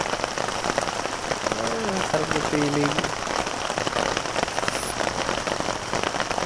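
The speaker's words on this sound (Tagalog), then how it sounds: "pagtulog habang pinapakinggan ng ulan" Steady rain drums on a tarp over a campsite, a dense close patter that never lets up, while a voice speaks softly beneath it and a brief tonal sound passes in the middle.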